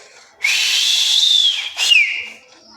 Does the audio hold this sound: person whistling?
yes